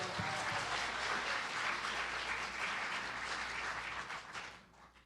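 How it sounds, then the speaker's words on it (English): An audience at an event claps in a sustained, dense round of applause that holds steady for several seconds before thinning out near the end. "Give yourself a round of applause."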